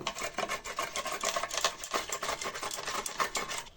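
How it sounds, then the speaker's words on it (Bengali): Carrots rubbed against a hand grater for a carrot payesh, fast, steady rasping strokes close up with no talking. "এরপরে এই গ্রেটারের সাহায্যে গ্রেট করে নিব।"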